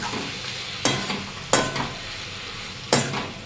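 A spatula stirs cumin powder, coriander powder, ginger paste and a little sugar as they sauté in a pan for a taro curry. Three sharp scraping strokes rise over a soft, steady sizzle.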